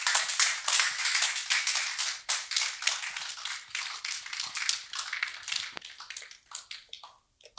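Applause from a health-workshop audience thanking a speaker: brisk, fairly close clapping that stays dense for several seconds before thinning into scattered claps near the end.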